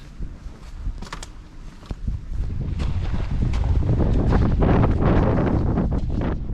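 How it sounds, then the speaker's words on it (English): Strong wind buffets the microphone near the summit of Japan's most famous mountain, a steady, loud roaring rush that builds and holds, with gusty rumble and no voices. "The wind has picked up near the top"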